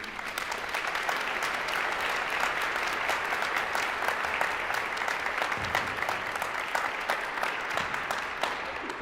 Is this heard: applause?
yes